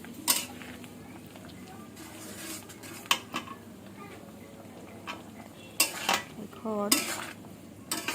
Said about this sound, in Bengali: একটু নাড়াচাড়া করে কষিয়ে নিচ্ছি ভালোভাবে।